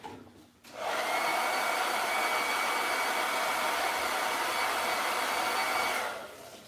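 A hair dryer blowing on a wet Chalk Couture silkscreen mesh: a steady, loud whooshing roar that starts abruptly, holds for about five seconds, then cuts off.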